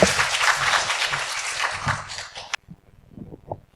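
An audience at a healthcare-policy rally applauds loudly for about two and a half seconds, then the clapping cuts off abruptly, leaving a few faint scattered sounds.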